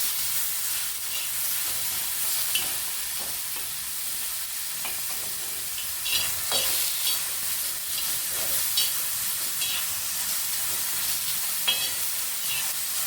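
Tomato frying on a hot tava for a village-style spicy chicken rassa gives a steady bright sizzle and hiss throughout, with scattered spatula stirs and pops close by.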